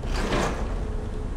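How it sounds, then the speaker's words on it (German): A sliding door opens in Portal 2's Aperture Tag test chambers, a smooth mechanical whoosh that swells in the first half second and then trails into a steady low hum, alone with no talk. "Ah, da ist die Tür."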